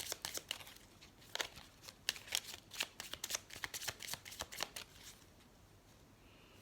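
Tarot cards being shuffled by hand during a reading, rapid close riffles and flicks of card stock in quick bursts that fade toward the end, with no talking.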